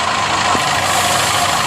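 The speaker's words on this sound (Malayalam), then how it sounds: "ആ വാട്ടർ പമ്പിൻ്റെ ബെയറിങ് പോയിട്ടുള്ള സൗണ്ടും കൂടിയാണ് നമ്മൾ കേട്ടത്" Steady mechanical drone of a running car engine with a failed water pump bearing and a coolant leak, a continuous broadband whir heard up close with no voices.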